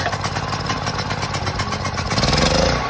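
A Predator 4000 watt generator engine running after carburetor repair, a loud, steady pulsing chug that builds slightly near the end.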